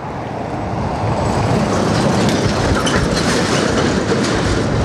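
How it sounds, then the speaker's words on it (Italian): A truck rolls loudly and steadily over a pothole in the road, a continuous heavy rumble of wheels and body with rattling clatter, close and alone with no talk. "Guarda sto camion che ci passa dentro."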